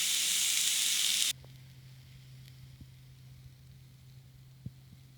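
Food sizzles on a cast iron grill pan over a Fire Maple Lotus titanium stove, a loud close hiss that cuts off abruptly after about a second, leaving a quiet steady hum with faint ticks.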